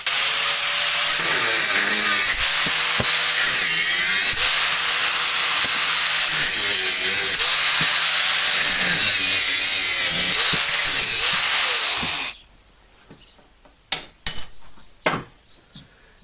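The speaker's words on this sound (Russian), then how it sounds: "Поэтому мы просто будем пользоваться по возможности болгаркой." An angle grinder cuts loudly and steadily through rusted metal parts of a motor pump, its harsh whine running for about twelve seconds before stopping abruptly, followed by a few clanks and handling knocks.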